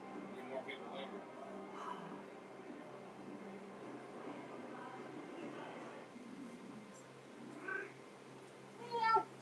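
A cat meows in a scene from the TV series Silo, with a few soft mews under a continuous hum and murmuring voices, and a brighter, louder meow near the end.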